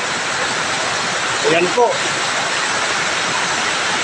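Very heavy rain pouring down during flooding at a workplace, a loud dense steady roar of water close by, with someone briefly speaking over it.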